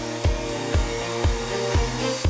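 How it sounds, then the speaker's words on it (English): A steady whirring hair dryer blows continuously, interrupted by regular rhythmic thumps about every half second. "whip out your hairdryer and get blowing"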